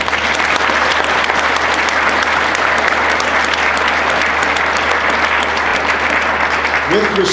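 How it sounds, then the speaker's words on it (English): Audience at an air cadet annual ceremony applauding loudly and continuously, a thick wash of clapping that never lets up, with a brief voice near the end. "So you join me in a round of applause for all these wonderful people."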